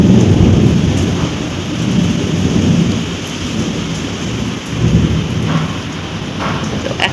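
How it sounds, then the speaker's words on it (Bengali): Loud thunder rolls on and off over light, pattering rain during a windless storm, a continuous low rumble rising and easing with drops tapping throughout. "শুধু প্রচণ্ড জোরে মেঘ ডেকে যাচ্ছে আর টিপ টিপ করে বৃষ্টি পড়ছে"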